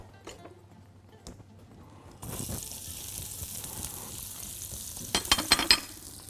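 Onion dropped into hot oil for chicken couscous, erupting into a loud steady sizzle a couple of seconds in after faint kitchen clatter, with stirring scrapes near the end and no one speaking.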